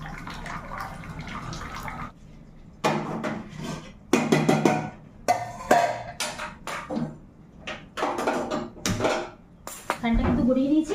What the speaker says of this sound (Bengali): অর্ধেক ফ্যান গড়িয়ে ওকে ছাড়তে গেছি, ফ্যানটা গড়িয়ে নিই।